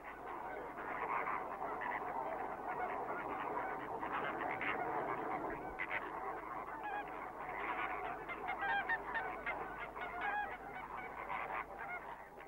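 James's flamingos at Laguna Colorada give a dense, continuous chorus of honking, goose-like calls, many birds overlapping at a moderate distance, steady and unbroken with no talk.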